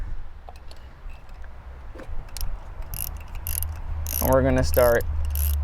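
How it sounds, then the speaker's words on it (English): Ratchet on a spark plug in the engine bay of a 2016 Kia Forte 5 2.0L, making quick close metallic clicking bursts with squeaky turning sounds toward the end, while a person talks briefly. "reverse direction on our ratchet, put the spark plug in the socket"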